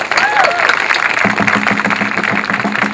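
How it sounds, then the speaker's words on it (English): Applause rises at a student rally to save Black Studies at Temple University, a dense, steady crowd clapping with a voice or two audible over it. "Let's give them a big round of applause."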